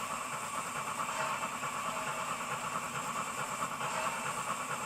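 An ESU-equipped model steam locomotive with its regulator opened gives a continuous hissing, chuffing engine sound, steady and moderately quiet for the whole stretch without pauses.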